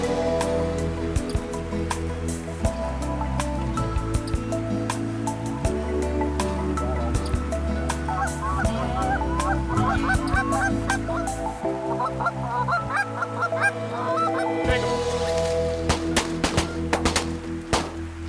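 Geese honk again and again through a rainy field goose hunt in Ontario. The calls overlap over a steady hiss of rain and dripping, some near and some farther off. No one speaks.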